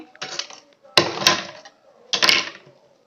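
Sewing machine stitching pads into a blouse, three short bursts of rapid mechanical clatter separated by brief pauses, close and fairly loud with no voices.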